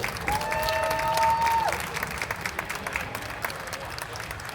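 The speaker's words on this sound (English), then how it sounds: "give a big round of applause for everybody up on stage" Audience applause and cheering for a panel of Intellivision game developers on stage at a classic video game festival, a steady crowd clapping that swells and then thins out.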